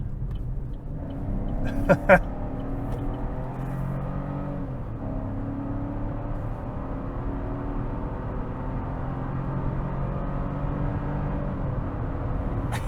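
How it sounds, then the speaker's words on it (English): A 2025 Chevy Trax crossover's small engine and powertrain pulling under acceleration, heard from inside the cabin as a steady low drone and rumble, with a brief clatter near the start. "I like this little powertrain. You can squeeze everything from it, and it's not punishing. No, it's not fast, but it sounds good."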